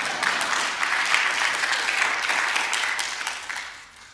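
A church congregation at a worship service bursts into loud applause, a dense wash of clapping that holds steady and then starts to fade near the end.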